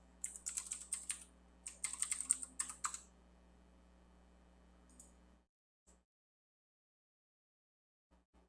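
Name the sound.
typing xcode-select command on a Mac keyboard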